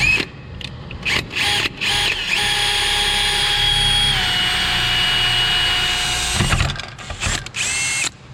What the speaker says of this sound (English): So we're gonna drill our hole right here, really easy.